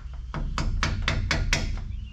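Hammer taps on small bolt lock clips on the driveline of an International tandem dump truck, six or seven sharp metallic strikes at a steady rhythm, close and fairly loud over low shop rumble.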